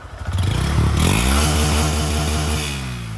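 A 2022 Honda Grom motorcycle with a new aftermarket exhaust revs up hard and bounces off its rev limiter, a loud, close, buzzing roar with rapid stuttering pulses that holds high before easing slightly.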